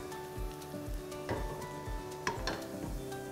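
Slit green chillies hit hot oil with a steady sizzle and frying crackle, with a couple of sharper spits midway over a faint background tone, no voices.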